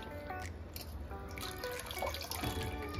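Tap water runs over fresh coriander and mint leaves being washed at a kitchen sink, a close, steady trickle with small splashes and drips throughout, with no talking.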